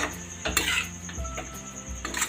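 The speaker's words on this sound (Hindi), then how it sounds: "अब मैं इसको ढक दूंगी थोड़ी देर के लिए।" A lid set onto a cooking pan of chaulai (amaranth) sabzi, giving a few close metallic clanks and scrapes, with a thin steady hiss behind them.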